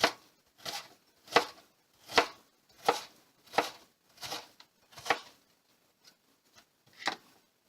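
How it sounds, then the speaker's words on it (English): A knife dices vegetables finely on a cutting board while chicken soup base is prepared, about ten crisp, evenly spaced chops close by, with no talk over them. "Then I'm going to turn it and dice it this way."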